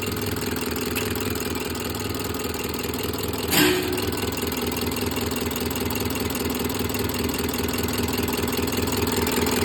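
A rebuilt YuMZ tractor fuel injection pump idling at about 300 rpm on a test stand, a steady mechanical hum and rattle with one short sharp knock partway through, loud and unbroken, no speech.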